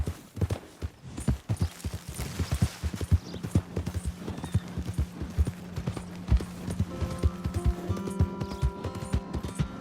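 Rapid clip-clop of horse hooves trotting in Red Dead Redemption 2, close and rhythmic, with a brief whinny and a hum of game music rising near the end.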